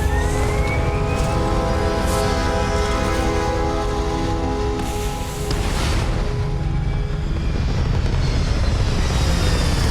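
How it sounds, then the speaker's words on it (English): Starfield spaceship thrusters fire in a steady, loud roar with a droning engine hum, sustained throughout with a slight dip midway, no voices. "All thrusters firing."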